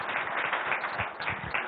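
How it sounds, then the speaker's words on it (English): An audience at a political speech event in Hyderabad claps in a short, steady burst of many hands, even and fairly close, with no voices. "I think you can give a bigger round of applause for that,"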